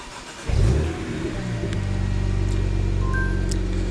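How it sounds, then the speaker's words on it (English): BMW car engine cranking and catching after a remote start, a sudden loud burst that settles into a steady, close idle hum with no one talking. "and then the car is gonna start"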